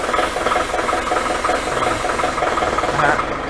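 Loud, close diesel engine of a CX30 excavator running with a rough, knocking rattle and steady hiss, its revs settling lower.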